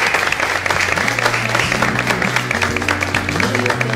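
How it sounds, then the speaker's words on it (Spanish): An audience at an evening event applauds for the people attending, with sustained crowd clapping running under background music and a bass line throughout. "Pido un fuerte aplauso a toda la gente presente en el día de hoy."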